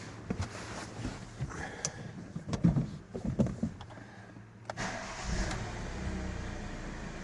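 Hyundai car engine running after a turbo boost fault was repaired, a quiet idle with several short revs and bursts of engine noise, then a steadier hum toward the end.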